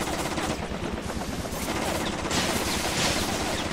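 Rapid, dense gunfire from the video game inFAMOUS 2 rattles on loudly and without pause, as sustained overlapping bursts with no voices over them.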